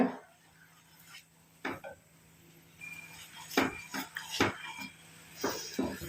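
A spoon mixes coffee powder and amla powder in a bowl, giving scattered clinks and scrapes against the bowl at an irregular pace, close and moderately loud, with no talking.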